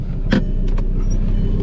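A 2015 Audi R8 V10 idles nearby while being repositioned, a steady low engine rumble with a couple of brief mechanical clicks or whirs over it, no voices.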